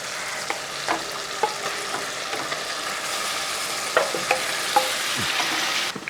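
Marinated chicken going into a sizzling tomato masala, a continuous loud frying hiss with scattered spoon clinks and stirring knocks.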